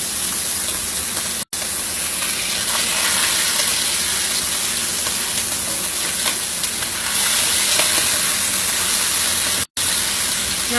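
Flipped pork chops sizzle loudly and steadily in a hot pan, a dense continuous crackle broken by two brief gaps.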